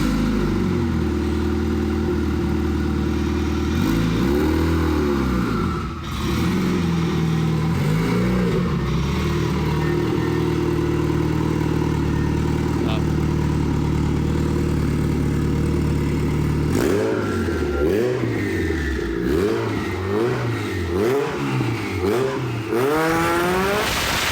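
A turbocharged Honda Integra driven with no windshield, engine loud and close throughout, droning at steady speed, then revving up and down in repeated swells toward the end amid strong wind noise.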